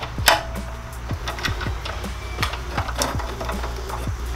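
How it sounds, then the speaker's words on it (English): Repeated ratchet-wrench clicks while snugging oiled head bolts on a Honda GX270 (Predator 301cc) small engine during a rebuild, a steady series of short sharp ticks close by, no talking. "I'm just gonna snug all these head bolts up."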